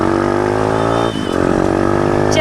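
A repaired dirt bike engine runs loud and close, its steady droning note dipping briefly as the throttle eases, then rising again into a firm rev.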